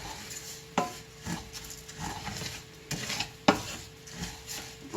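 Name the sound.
stirring beef and bacon frying in a pan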